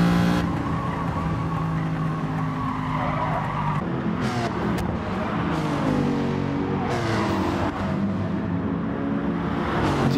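Race car in Gran Turismo Sport, a loud close engine drone rising and falling through gear changes, mixed with sustained tire squeal and skidding in a competitive online race.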